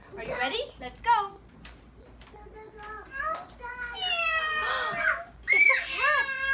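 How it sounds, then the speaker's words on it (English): A cat meowing several times, with drawn-out, rising and falling cries, close and clear, between brief child and adult speech. "It's a cat. A cat. Meow."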